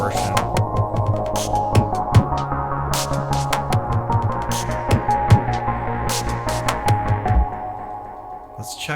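A Deluge synthesizer plays square-wave tones with distortion turned down, a steady repeating pattern of sustained notes with sharp rhythmic hits over a low drone, loud and continuous before thinning out near the end.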